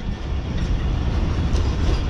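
Karakoram Express passenger train on the Lahore to Karachi line, arriving at a station as a loud, close, continuous rumble of rolling wheels and carriages, with no speech.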